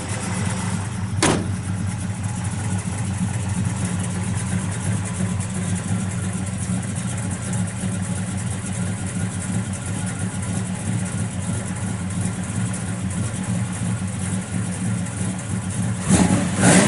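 A 1966 Chevelle's 427 V8 with an aluminum intake and Holley carburetor idles steadily and loudly, broken by a sharp rev blip early on and another near the end.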